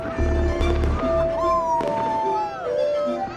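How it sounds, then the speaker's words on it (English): Fireworks burst over Colonial Williamsburg on a holiday evening, with a few deep thuds and sharp pops under a steady, sustained musical tone. "Crescent flames crackle and pop, while fireworks illuminate the evening skies in grand tradition."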